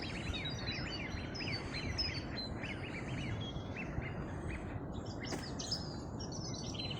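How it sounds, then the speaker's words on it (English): Birds sing and chirp in repeated short phrases over a steady wash of outdoor background noise at the Knucker Hole, a wildlife haven behind a gate, at moderate distance. "I think you can hear the birds"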